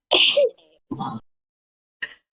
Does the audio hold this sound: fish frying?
no